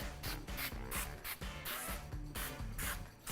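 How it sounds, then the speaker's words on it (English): Repeated short hissing bursts of olive oil spray from an aerosol can onto onion rings, in an uneven rhythm, close up, with quiet gaps between each puff. "give each of these rings a nice light coat of olive oil spray"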